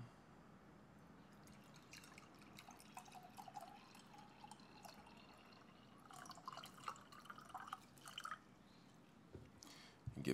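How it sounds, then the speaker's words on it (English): Gatorade Water poured into a glass, giving a faint, quiet trickle and drip of liquid that runs steadily for several seconds with no talking. "So I'm going to pour some in my glass."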